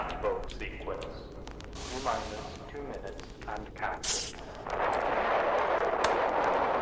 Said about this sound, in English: You hear all that gunfire?